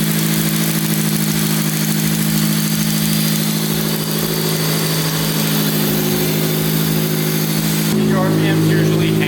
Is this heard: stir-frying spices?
no